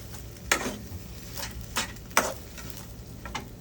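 Pad thai stir-fried in a pan, with a low sizzle under repeated metal spatula scrapes and clinks against the pan at an uneven rhythm.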